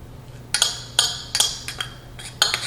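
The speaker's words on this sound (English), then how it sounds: "And now we're gonna mix it." A utensil mixing olive oil and chopped basil in a bowl gives a few crisp clinks and scrapes in an irregular rhythm, close and moderately loud against a quiet room.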